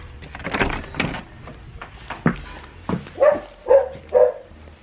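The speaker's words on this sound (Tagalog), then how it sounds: "Tumatahol sila kasi it's their dinner time." Dogs bark in a quick series of sharp, close barks, with several yaps spaced about half a second apart near the end.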